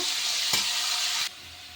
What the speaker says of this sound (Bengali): আলুটা আমার বেশ ভাজা হয়ে গেছে